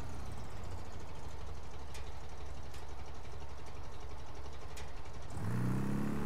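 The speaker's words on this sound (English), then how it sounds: "I was gonna say I can hear a car engine." Car engine idling in Mafia: Definitive Edition, a low steady rumble throughout with faint ticks, rising into a louder rev near the end.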